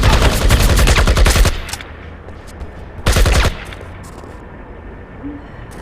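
Two loud bursts of rapid AK-47 automatic fire in the IGI 1 video game, separated by a quiet gap, with no talking.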